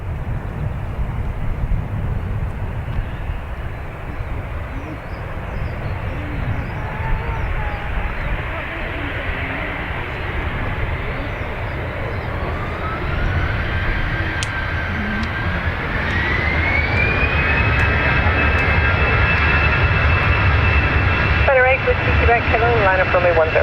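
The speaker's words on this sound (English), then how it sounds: "So, the Aer Lingus is off to London Heathrow." An Aer Lingus airliner, bound for London Heathrow, takes off from runway 10 right at Dublin Airport with a steady, loud engine roar that builds and rises in pitch over the clip, a rising whine emerging toward the end.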